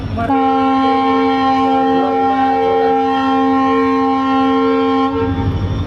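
A loud, sustained train horn blares for about five seconds over the rumble of a train at Dhanera railway station, then cuts off, leaving the rolling rumble.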